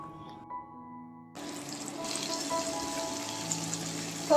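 Ridge gourd pieces frying in hot oil in a pan, a steady broadband sizzle that starts abruptly partway through and continues at moderate level alone.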